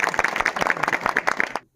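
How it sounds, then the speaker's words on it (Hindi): A group of villagers at a village cow shelter clap together, a fast, loud burst of many hands close by that ends abruptly after under two seconds. "ताली बजाओ ताली बजाओ।"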